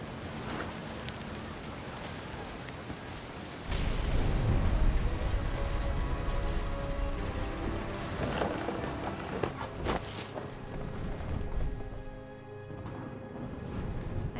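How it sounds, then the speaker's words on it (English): Rain and thunder sound in the video game What Remains of Edith Finch: steady rain hiss runs throughout, with a low rumbling swell of thunder and a few sharp cracks, under faint background music. "Thunder sounded much too close and full of angry power."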